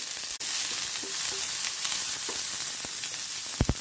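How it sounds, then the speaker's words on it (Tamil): Mustard seeds, cumin, curry leaves, dried red chilli and onion sizzle in hot oil for a jackfruit seed dish, a steady close hiss broken by a few sharp crackles and pops toward the end. "எண்ணெய் சூடானோடனே கடுகு, ஜீரகம், கருவேப்பிலை, வரமிளகாய், வெங்காயம்."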